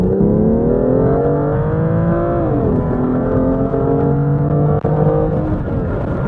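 A turbocharged six-cylinder BMW M2 accelerates hard in automatic mode, its loud, steady engine drone climbing in pitch, dipping at a gear change, then rising again from inside the car.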